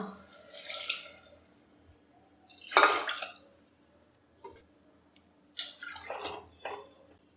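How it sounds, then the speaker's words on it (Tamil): Water poured from a tap or jug into cooked lentils for South Indian idli sambar, with a few separate splashing bursts and a longer main pour, fairly close and clear, no talking. "பருப்பை சேர்த்துட்டு இப்போ சாம்பாருக்கு தேவையான அளவுக்கு தண்ணி சேர்த்துக்கலாம்"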